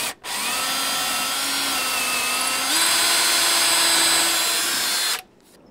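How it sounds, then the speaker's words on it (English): A power drill bores into a door while an Armor Concepts door shield is being fitted, giving a loud, steady whine for about five seconds that steps up in pitch midway before cutting off. "You want to make sure you hold your drill level"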